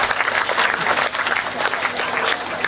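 An audience at a Hindi comedy poetry gathering claps steadily and loudly, dense applause filling the whole moment with a faint crowd murmur underneath.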